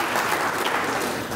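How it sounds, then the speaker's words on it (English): Audience applause at a public lecture on science and religion, a brief steady wash of clapping from a crowd, moderately loud and distant. "round of applause"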